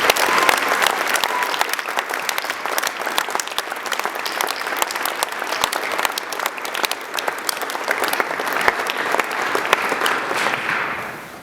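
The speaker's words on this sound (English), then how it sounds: "Let's give them a huge round of applause." Audience applause for assistant coaches at a high school winter sports banquet, dense continuous clapping from a room full of people, steady throughout and fading at the end.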